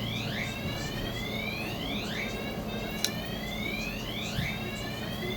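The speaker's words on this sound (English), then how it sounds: "Fire alarm test." An electronic fire alarm during a building test sounds a repeating rising whoop, several sweeps in a steady cycle, heard from a distance over constant room noise with no speech.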